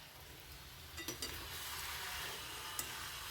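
Bottle gourd and fish head curry with slit green chillies is stirred in a pot, giving a few soft spoon scrapes and light clinks over a quiet background hiss, with no talking.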